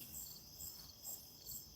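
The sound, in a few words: crickets chirping outdoors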